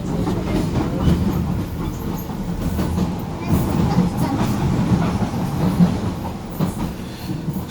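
Riding aboard a DLR light-rail train between Lewisham and Canary Wharf in London, with a steady low rumble of wheels and car noise throughout, rhythmic clatter over track joints, no talk.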